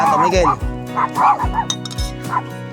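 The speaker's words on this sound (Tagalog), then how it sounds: "pag may mga kasama yung ganito, yan, talagang laging tahol" A dog barks and yips repeatedly in short bursts at a riverside campsite after a typhoon, loud and close, with people talking over it.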